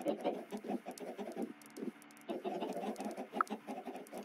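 Chickens in Minecraft, including lapis chickens from a Chicken Block game, cluck in quick, soft bursts with a short pause, faint and close.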